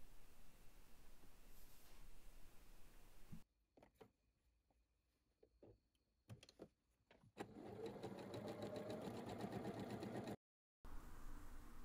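Sewing machine stitching a second seam on a long ruffled summer skirt, running steadily for a few seconds up close after quiet clicks and handling noises.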